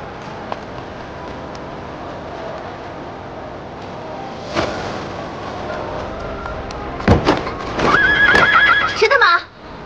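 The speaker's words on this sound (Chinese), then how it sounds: "谁的马？" A horse in a period drama gives a loud, shrill whinny near the end, preceded by scattered hoof clops and muffled scuffling, with brief voices in the background.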